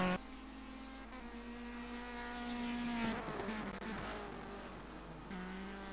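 Touring race car engine in a sim racing game of the British Touring Car Championship at Donington, a thin buzzing whine that rises through the revs, dips around a braking point, then climbs again, with no talk.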